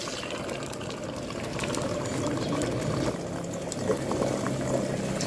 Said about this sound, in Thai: หลังจากกระทะแล้วก็น้ำมันเริ่มร้อนแล้วนะคะ เราจะใส่ไข่ลงไปค่ะ